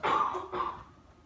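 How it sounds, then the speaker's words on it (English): Someone gives two quick, close coughs, the second slightly weaker, then a short fade into quiet. "Can you not cough, please?"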